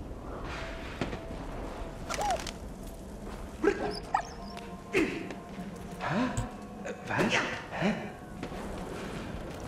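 A dog in the video game Valiant Hearts: The Great War gives a series of short yips and barks with whimpering tones, spaced irregularly over quiet game ambience at moderate loudness.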